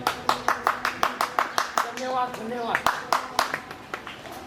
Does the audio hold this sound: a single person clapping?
yes